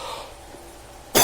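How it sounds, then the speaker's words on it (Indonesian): A single sharp cough bursts out abruptly at the very end, close and loud after near silence during an interview setting. "Batuk lagi."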